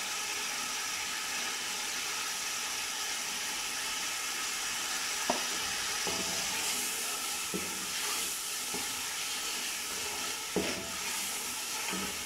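Spice powder frying in a pan for a mutton mince pulao gives a continuous close sizzle and hiss, broken by a handful of sharp spoon clicks against the pan, with no voices.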